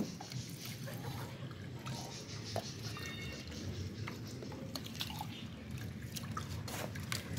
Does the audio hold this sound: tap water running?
yes